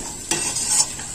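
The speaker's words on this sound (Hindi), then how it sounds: "अब इसे अच्छे से हम भून लेते हैं।" Spices and roasted peanuts are stir-fried in a pan for samosa chaat, with a quick scrape of the spoon over a soft frying hiss, heard briefly and close with no speech.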